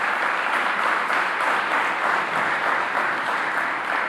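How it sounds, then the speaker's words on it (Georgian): Audience applause fills a grand hall at the opening of the National Palace, a dense, steady roar of many hands clapping, loud and continuous with no talk over it. "მინდა ცალკე აპლოდისმენტები გულიდან მომავალი მას"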